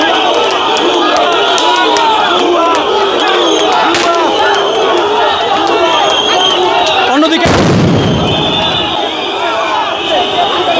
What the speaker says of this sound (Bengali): আমরা দেখছি একটি সাউন্ড গ্রেনেড ছুটছে